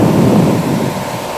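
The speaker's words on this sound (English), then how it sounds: "it does the left arm first, and then when the arm folds in, it starts spraying out of the right arm." Water blasts from the spray arm of a Belanger Saber automatic car wash, a loud, close, continuous roaring hiss that fades slightly as it goes on.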